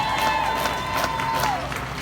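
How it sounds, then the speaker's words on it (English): Large outdoor crowd at a Times Square rally and concert in New York applauding and cheering, a steady dense roar of claps and shouts with a sustained whistle-like tone over it. "Please give them a huge round of applause."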